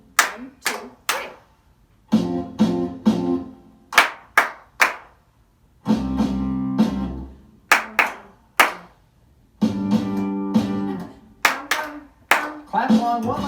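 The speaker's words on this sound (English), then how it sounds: "Clap along one last time." Repeated bursts of hand clapping by children keeping time with a song during a library storytime, sharp close claps alternating with an adult voice singing between them.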